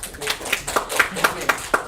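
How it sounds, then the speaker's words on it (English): A small group at a career coaching investment club meeting claps briefly, giving a short round of applause: a few distinct, fairly close hand claps in a loose, uneven rhythm, with faint background talk. "Round of applause."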